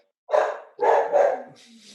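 A dog gives two or three short, loud barks close by, the last two running together, followed by a faint trailing sound.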